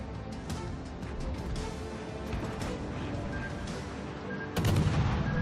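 Naval guns fire in World of Warships Legends around the Vasteras, a steady stream of rumbling shots and crashes, ending with a sudden louder, heavier blast.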